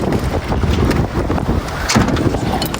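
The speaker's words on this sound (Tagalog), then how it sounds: "Yung hangin yung lakas." Strong wind in spring in snowy Greenland buffets the microphone with a constant roaring rumble and gusty flutter, loud and unbroken throughout.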